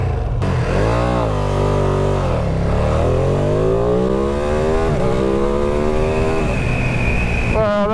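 Ducati Streetfighter V2 motorcycle accelerating hard through several gears, loud and close, each rising engine howl cut by a brief drop at the shift before climbing again.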